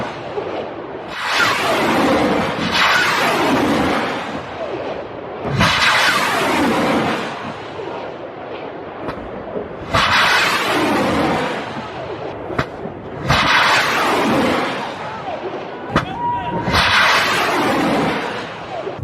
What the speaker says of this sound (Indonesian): Lihat bagaimana mereka tembak rudalnya.